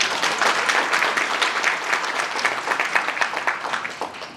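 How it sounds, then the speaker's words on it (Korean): Dense, steady applause from an audience at an investment briefing for the Hwawon industrial complex in Haenam, South Korea, with many hands clapping continuously and evenly for about four seconds, without speech. "우리 두 기업을 위해서 큰 박수 한번 다시 부탁드리겠습니다"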